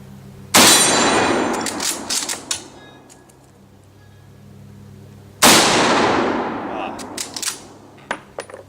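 Two loud, sharp 7.62x54R rifle shots ring out several seconds apart at a steel target outdoors, each a sudden crack followed by a decaying echo and scattered clinks and rustles.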